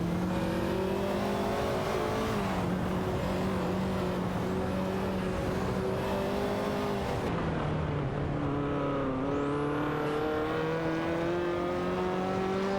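Race car engines drone and shift pitch in an AI racing video game, several cars layered together in a continuous, moderately loud roar with audible gear changes and no voices.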